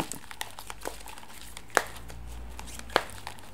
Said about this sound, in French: on va tirer une carte en lien avec cette pleine lune